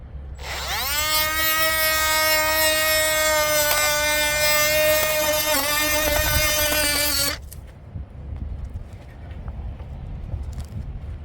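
A power tool whines up and runs loud and steady for about six seconds while cutting polycarbonate sheeting outdoors, then cuts off abruptly, leaving quieter rustling and faint background noise.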